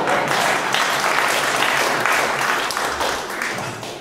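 Comedy club crowd at the Bijou Theater breaks into sustained, loud applause that stays dense and steady for a few seconds before tapering slightly at the end.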